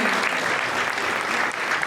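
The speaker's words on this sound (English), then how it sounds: "Let's give them a round of applause." An audience at a school athletics awards banquet applauds, steady dense clapping from a full room that holds at an even level for a couple of seconds.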